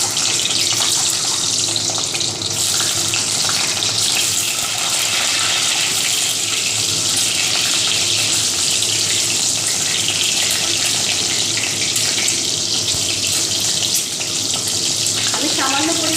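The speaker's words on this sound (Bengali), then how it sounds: "তেলটা আমার ভালো গরম হয়ে গেছে, এবার আমি ডিমগুলোকে একটু দিয়ে দিই।" Eggs frying in hot oil in a pan, a steady, loud sizzling hiss that runs unbroken for the whole stretch, close up and alone.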